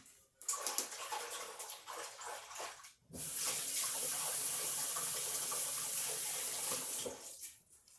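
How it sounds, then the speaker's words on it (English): Tap water runs into a kitchen sink while hands are washed, starting with splashy, uneven bursts before settling into a steady, fairly close hiss of flowing water that then stops abruptly. "Let me wash my hand again."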